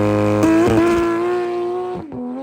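Porsche 991.2 GT3 RS with a straight-pipe Soul Performance exhaust revving hard near 9,000 RPM, a loud, close, shrill engine howl held high, dipping briefly during two quick shifts and a lift near the end.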